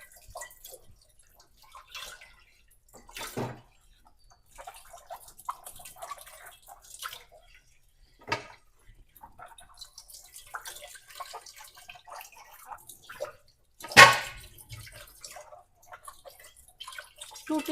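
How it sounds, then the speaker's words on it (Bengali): Water trickling slowly from a newly fitted tap in a new house, faint irregular drips and gurgles with a louder splash or two. "জল পরে কিরকম আস্তে আস্তে নতুন লাগানো হয়েছে"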